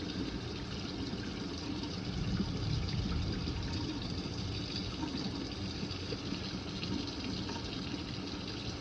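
Tap water running steadily into a sink for milk bucket sanitation, a continuous close hiss and splash with no breaks.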